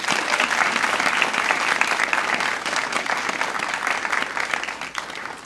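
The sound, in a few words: audience applause for student researchers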